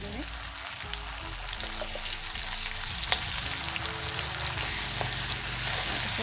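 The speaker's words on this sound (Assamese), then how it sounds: "তেল গরম করি তেজপাত আৰু তেজপাত এটা দি এনেদৰে পিয়াজখিনি ভাজি লৈছো" Onions and ginger-garlic paste fry in hot oil with bay leaves, a steady close sizzle and crackle running throughout, with occasional stirring.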